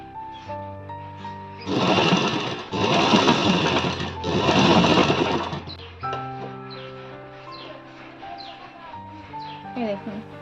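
A sewing machine stitches a blouse sleeve in three short, loud whirring runs separated by brief pauses, then falls quiet while a voice talks nearby.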